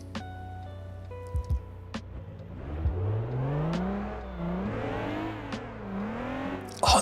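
A 400-horsepower V6 engine in the video game Motor Town revs up and down in rising and falling sweeps after a few short blips, moderately loud and close with no talking.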